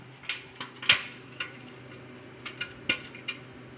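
Metal utensil scraping and clinking against a pot while stirring egg pasta on the stove, about a dozen sharp, irregular clanks and scrapes over a low kitchen hum, with no talking.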